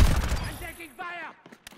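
Gunfire in Call of Duty: Modern Warfare sounds as a short burst of heavy shots at the start, followed by quieter scattered reports and a voice speaking over the fading fire.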